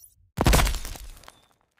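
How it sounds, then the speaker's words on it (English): Ceramic body armor shatters a bullet in one sharp, loud crack and breaking burst that trails off into brief debris. "Ceramic shatters the bullet"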